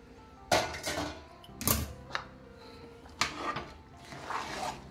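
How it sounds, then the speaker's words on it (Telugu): Vegetable pieces dropped into cooked rice in a pressure cooker for sambar rice: several distinct clattering knocks and scrapes against the metal vessel, spaced irregularly, with faint rustling between. "ఇప్పుడు ఈ కుక్కర్ పెట్టేసి ఈ కుక్కర్లో ఈ ముక్కలు వేస్తానండి."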